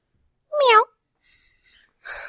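A person imitates a cat with one short, close, clear meow, followed by faint breathy noise and quiet pauses.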